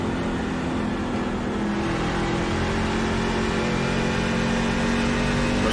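A racing truck on an oval track revs hard in fourth gear, a loud continuous engine roar with steady high revs, joined by other truck engines in the field.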